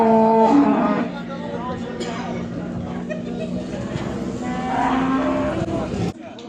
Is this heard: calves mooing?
yes